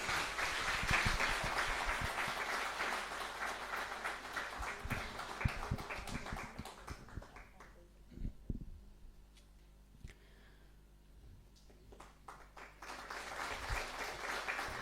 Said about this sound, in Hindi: जब स्वागत सत्र है तो तालियों से आप अपना भी स्वागत करेंगे